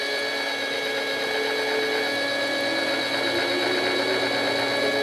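A Frankford Arsenal Platinum Series case trimmer chamfers the mouth of a 300 Blackout brass case, giving a steady, close motorized whir with a faint metallic scraping that runs evenly throughout and has no voices.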